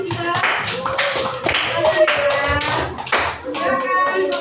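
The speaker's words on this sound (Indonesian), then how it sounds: "Tepuk tangan untuk teman-teman kita." Children in a classroom clapping for their classmates, with short bursts of hand claps mixed with lively kids' voices and chatter throughout.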